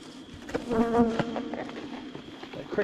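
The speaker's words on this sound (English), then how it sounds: "there's a lot of bees in this hive" Honey bees buzz around a beehive during fall beekeeping work, a dense, continuous droning hum from many insects close by with wings flitting in and out, steady and loud throughout.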